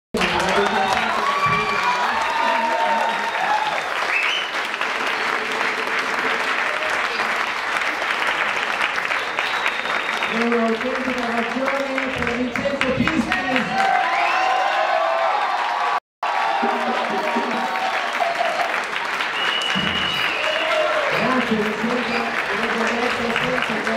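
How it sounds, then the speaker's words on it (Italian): Audience applause after a youth band concert, sustained dense clapping from a large crowd with scattered cheers and shouts, loud and continuous apart from a brief cut midway. "volevo chiedere un grande applauso per due amici di quelli della Bimba"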